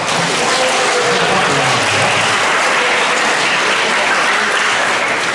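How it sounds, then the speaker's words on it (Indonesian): A crowd claps loudly and continuously, dense applause filling the room for several seconds. "Tepuk tangan dulu wanita"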